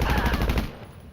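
Rapid automatic rifle fire in the online action game GTA 5 Online, a loud sustained burst that cuts off after about two-thirds of a second and leaves a fading echo.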